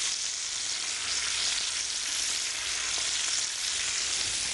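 Paprika and cumin simmer in a pan with a steady, dense sizzle that holds evenly throughout, close and unbroken, with no voices.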